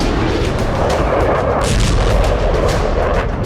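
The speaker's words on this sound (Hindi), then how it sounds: "डोनेस्क में रूसी फौज ने क्लस्टर बम से तबाही मचाई" Russian cluster bombs and artillery in Donetsk produce a dense, continuous roar of loud rumbling blasts and crackling impacts that stays heavy throughout, with no voices.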